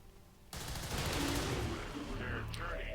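Gunfire in the video game XCOM 2: War of the Chosen erupts abruptly into a dense, sustained volley of shots, loud and continuous for a few seconds, with rumbling low booms and brief game tones near the end.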